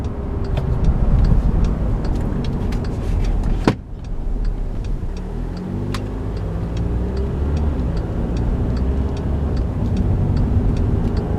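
A 2014 Volkswagen Jetta TDI Premium diesel with a DSG gearbox drives on the road, engine and road noise steady and close from inside the cabin, with a brief dip and sharp click partway through before the drone resumes.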